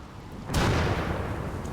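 A thunderclap from a rainy thunderstorm in the colony-building game Rimworld: a sudden loud broadband crack that swells into a sustained rolling rumble, with no talking.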